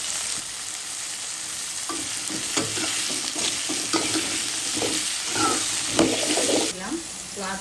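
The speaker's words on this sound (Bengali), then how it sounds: "আলু তো দিয়েছিলাম, একসাথে ভেজে নিব পেঁয়াজের সাথে।" Onions and potatoes frying together in a pan, with a constant close sizzle under repeated scraping stirring strokes. A faint voice is heard in the background.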